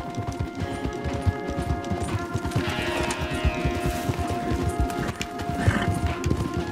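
Several horses' hooves clip-clop steadily in Red Dead Redemption 2, a dense, close rhythmic trotting over a low rumbling outdoor backdrop, with a brief whinny-like sound and no talking.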